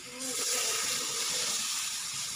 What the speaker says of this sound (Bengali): আমি জলটা না গরম জল ব্যবহার করছি এখানে